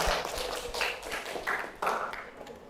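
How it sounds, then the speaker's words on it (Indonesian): Members of a history class give a short round of hand claps, a handful of distinct, separated claps and taps in an uneven rhythm, fairly close and moderately quiet. "Oke, tepuk tangan."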